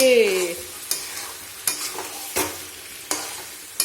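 Meat for kosha mangsho is stirred and fried in a pan, giving a steady sizzle broken by regular scraping strokes of the spoon about every 0.7 seconds. A brief tonal sound is heard at the start, and no one talks.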